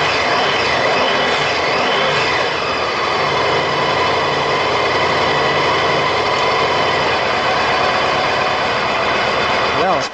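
A motorcycle engine runs loud and steady at idle close to the microphone, a continuous dense mechanical drone with no clear change in pitch over ten seconds.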